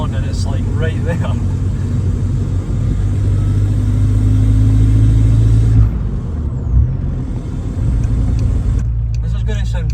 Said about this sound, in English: I can hear the injectors more. And I don't know how that is, but they sound so loud.